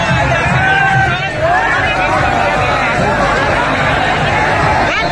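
A dense, loud crowd hubbub of chatter and shouting fills a DJ sound-system competition in Azamgarh, people jostling and pushing close to the speakers, a continuous wall of babble with no clear pauses.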